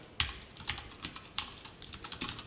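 Code being typed on a computer keyboard, with soft, irregular key clicks at close range and a few sharper strokes, no talk.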